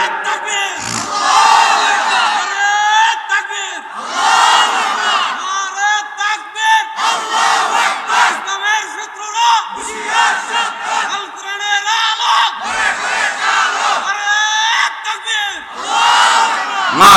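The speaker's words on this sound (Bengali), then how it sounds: "এদ্দুর শক্তি দিয়ে আপনারা আল্লাহু আকবার বলবেন" A large crowd at a religious gathering shouts the takbir cry in unison, loud repeated bursts of massed voices roaring together, separated by short pauses between each chant.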